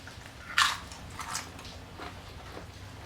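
A crunchy homemade pita chip with sea salt, dipped in thick hummus and hot sauce, is bitten once with a loud crisp crack, followed by a few softer chewing crunches close to the mic.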